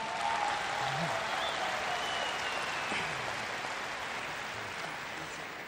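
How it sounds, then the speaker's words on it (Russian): An audience at a sales technique seminar applauds, a dense wash of clapping from many hands in a hall that holds steady and then slowly fades, with faint voices mixed in. "вы плохо хлопаете"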